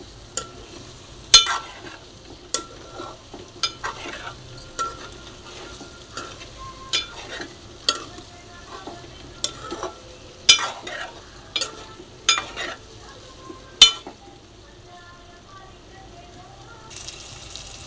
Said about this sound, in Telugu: పసుపు వేసుకొని ఒకసారి ఇలా కలుపుకోవాలి.